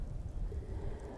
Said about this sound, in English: some rain effects on your face, which is pretty cool